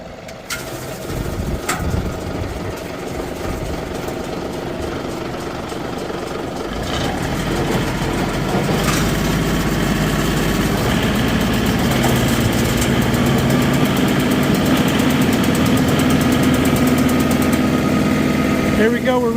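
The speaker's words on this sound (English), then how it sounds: "So we're going to engage the PTO and see how we're doing." A tractor engine drones steadily with its PTO engaged and spinning at 540 rpm on a homestead, the rumble swelling and thickening about a third of the way in, then holding a loud, even run.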